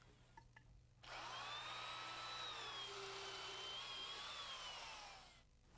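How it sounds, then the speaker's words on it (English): A heavy-duty power drill with a sharp auger bit whines steadily for several seconds, its pitch drifting slightly as it bores bolt holes into wood, then winds down to quiet. "We use a heavy-duty drill motor and a good sharp auger bit to drill our holes."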